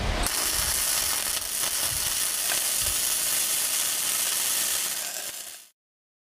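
Flux cored arc welding on a T-joint, a steady loud crackling sizzle that runs continuously for about five and a half seconds before cutting off abruptly into silence.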